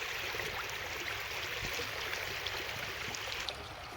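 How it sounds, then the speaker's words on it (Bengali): A strong river current rushes steadily past, a broad continuous wash of flowing water with occasional small splashes, close and loud with no voices. "এই যে কত স্রোত দেখছেন খুবই বেশি"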